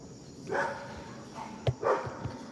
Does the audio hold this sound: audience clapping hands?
no